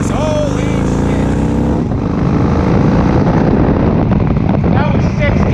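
A 2004 Yamaha XV1700 Road Star Midnight Edition motorcycle accelerating from 0 to 60: the engine note climbs at first, then is largely buried under loud, steady wind roar.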